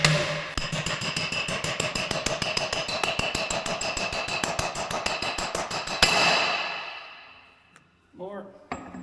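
Rapid, steady hammer blows ring on metal, dozens of sharp strikes in quick rhythm during undercarriage repair on a John Deere 755K crawler track loader, then stopping as a voice speaks briefly near the end.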